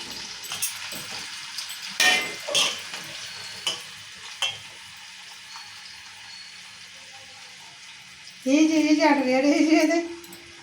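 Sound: bitter gourd slices frying in oil

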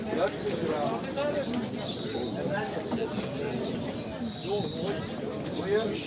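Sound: cooing chocolate-coloured baska pigeons at a bird market

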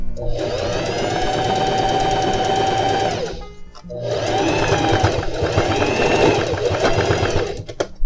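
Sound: sewing machine stitching jeans seam

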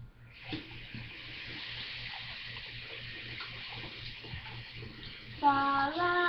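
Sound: water running in bathroom sink

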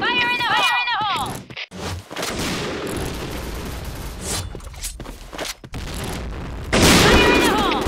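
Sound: grenade explosion and gunfire in a video game

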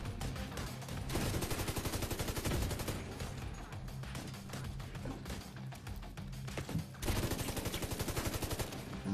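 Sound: gunfire in The Division 2 video game

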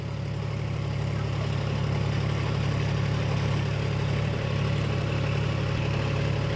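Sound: vehicle engine running at steady rpm

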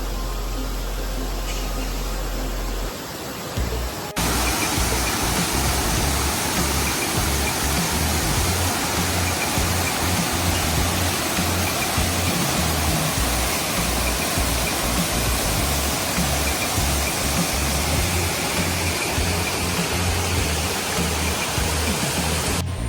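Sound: Urulikkund waterfall in Kannur

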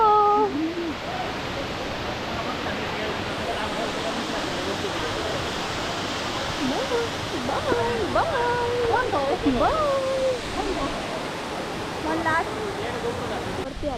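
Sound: Savdav waterfall, water flowing down

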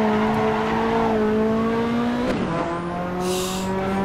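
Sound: Ferrari F40 driving in video game Assetto Corsa

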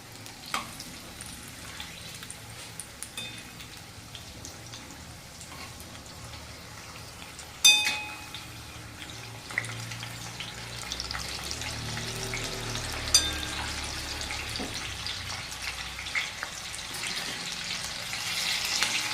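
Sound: green chilies frying in oil

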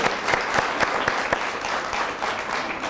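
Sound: audience applauding the little child

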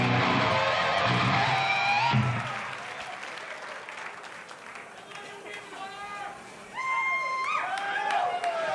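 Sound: concert crowd applause and cheering

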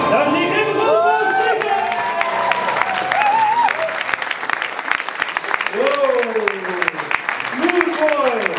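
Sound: audience applause and cheering

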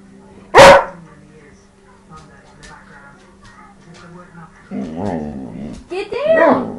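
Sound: dog growling and barking

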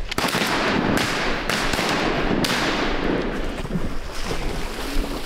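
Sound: shotgun shots fired at a duck while hunting

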